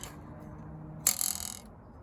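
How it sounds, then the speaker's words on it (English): A hose clamp being adjusted on a tent pole gives one brief metallic ratcheting, clicking burst of about half a second, close and moderately loud against a quiet background, with no talking. "I can adjust the hose clamps anywhere on that pole there"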